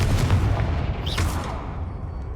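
A Confringo blast spell from Hogwarts Legacy goes off in a muffled booming burst that decays over a couple of seconds, loud and close, with no talking over it.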